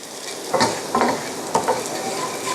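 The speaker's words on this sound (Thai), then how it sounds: "นี่ก็ผัดไปเรื่อยๆจนกว่ามันจะนิ่มนะคุณผู้ชม" Ingredients being stir-fried in a pan until soft give a loud, continuous sizzle, broken by several quick scraping stirs of a utensil against the pan, with no voices.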